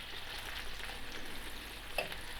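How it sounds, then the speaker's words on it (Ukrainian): A soft, steady sizzle of chicken liver cutlets frying in a pan, with a brief clink near the end. "Зараз оберну, хай ще смажиться."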